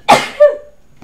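A single close, sharp sneeze bursts out with a breathy rush, followed a moment later by a shorter voiced catch of breath, then near silence.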